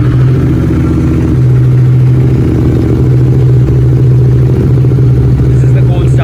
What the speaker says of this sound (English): Time for the another Continental GT with the MOTO exhaust.